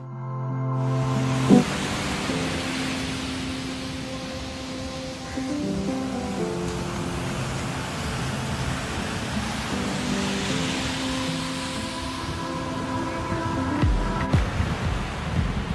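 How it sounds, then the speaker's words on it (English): Continuous roar of ocean waves washing onto a quiet beach in Goa, India, with steady tonal hums running underneath throughout. "you just listen to the waves crashing on the shore"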